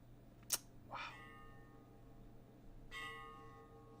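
Church bells in The Crooked Man video game ring out in a few separate, fairly quiet strikes with long ringing tails over a low background hum.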